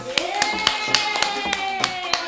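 A small group claps at a children's show, about ten sharp hand claps in a loose, uneven rhythm, close and crisp, with faint voices underneath.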